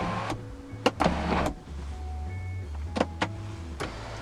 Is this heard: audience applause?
no